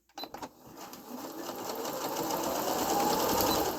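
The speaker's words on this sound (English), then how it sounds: "So let's say I want to sew." A Singer Quantum Stylist 9960 sewing machine runs without a pedal, its motor starting after a few clicks and building into a steady, close whirring stitch that grows slightly louder throughout.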